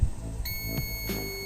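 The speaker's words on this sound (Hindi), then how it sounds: "तो आप सुन सकते हो बीप रीडिंग आ रहा है।" A multimeter on continuity test beeps while checking an RF cable during a mobile network fault repair, giving a steady electronic tone that starts partway through and holds on, fairly faint, with no talking.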